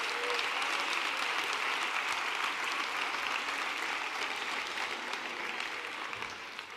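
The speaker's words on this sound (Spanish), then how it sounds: "Un aplauso para ellos también." Crowd applause at a Pablo Iglesias campaign rally in Almería, a dense, steady wash of many hands clapping that holds for several seconds before easing slightly toward the end.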